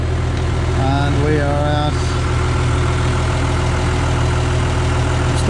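A cold John Deere 3140 tractor engine idles with a steady, loud, low diesel rumble throughout, while someone speaks briefly over it near the start.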